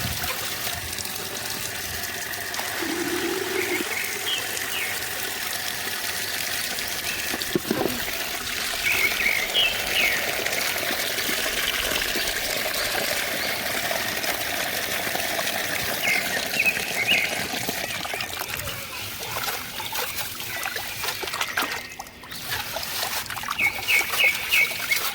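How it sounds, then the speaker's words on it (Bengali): Sand being rinsed several times with water in a basin at home for a small fish pond; a steady trickling and sloshing of water runs throughout, with faint birdsong in the background. "বাড়ি ফিরে গামলায় করে বালিগুলো ধুয়ে নিলাম বেশ কয়েকবার।"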